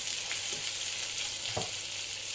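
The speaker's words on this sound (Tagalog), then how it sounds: "Iprito lang natin yung pork hanggang sa mag-golden brown" Pork sizzles steadily in hot oil with sautéed garlic and onion, a constant broadband frying hiss with a couple of soft utensil stirs, close and alone with no voices.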